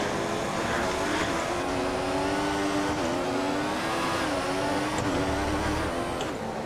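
A Formula 1 car engine whines continuously in the F1 2014 racing game at Malaysia, a high buzzing drone with small pitch dips as throttle shifts, steady and loud with no break.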